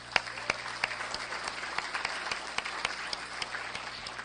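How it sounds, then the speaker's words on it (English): Audience applause at a 2018 gala fills the room, a steady wash of many hands clapping at moderate distance with a few sharper claps standing out, no talk over it. "I really want you to join me in a hand of applause for them again one more time."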